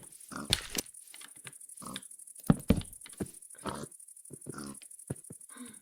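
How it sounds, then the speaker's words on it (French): Pigs in the Minecraft game grunt and oink in short, scattered bursts over several seconds, a few of them louder and closer, alongside other game noises, with no talking. "Ils font trop de bruit, les cochons"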